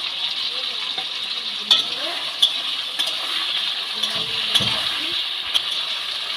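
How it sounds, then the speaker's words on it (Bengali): Tomatoes, green peas and slit green chillies fry in a wok for a vegetarian cabbage curry, a steady sizzle with a few sharp clinks of a spoon against the pan and light stirring, no voices. "কড়াইশুঁটির সাথে টমেটোগুলো ভালো করে ভেজে নিচ্ছি।"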